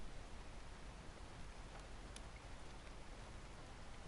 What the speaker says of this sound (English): we're just sitting here waiting for the rain to frickin' stop